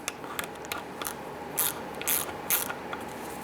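A ratchet tightens a bolt on a 2005–2010 Chrysler 300 during conductor plate work, its clicking pawl rattling in short close strokes with a few louder, sharper bursts.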